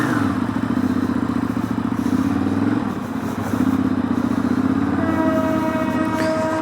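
A Ducati motorcycle engine drones steadily while being ridden, a loud, continuous rumble with a slight dip in the middle, heard close and with no talking.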